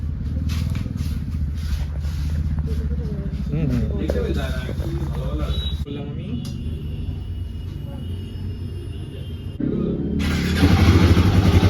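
A Royal Enfield Himalayan 450 motorcycle engine starts and runs with a steady low rumble, louder toward the end, while people talk over it nearby.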